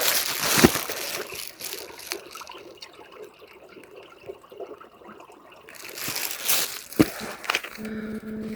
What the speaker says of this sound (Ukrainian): А тут тече вода річка.